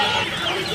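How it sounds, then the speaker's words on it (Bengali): Tiger chicken chicks and other fowl clucking and chirping in a dense, continuous chorus at a busy poultry market in Tongi, Bangladesh, close and steady throughout the short moment. "এগুলো আবার টাইগার মুরগির বাচ্চা"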